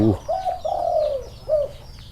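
A spotted dove gives a short run of soft, mellow coos, near and distinct, against faint bird chirps in the background.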